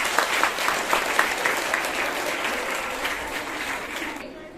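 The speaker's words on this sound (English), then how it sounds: "encourage your friends by giving a big round of applause for every correct answer" An interclass quiz audience gives a round of applause, brisk massed clapping that fades slightly near the end before cutting off.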